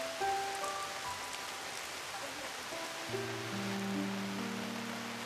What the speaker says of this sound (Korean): 참 좋다, 비가 와서.